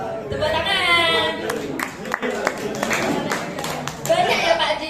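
Church congregation applause at an award announcement, scattered claps rising and falling under loud overlapping talk and crowd chatter in a reverberant hall.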